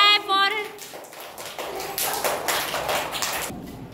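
Small children clapping for a classmate in a classroom colour-identification activity, a loose patter of light handclaps following a brief adult voice.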